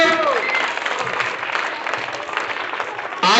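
Students in a classroom break into a burst of dense, steady clapping that fills most of the moment, with brief talk heard at the very start and again at the end.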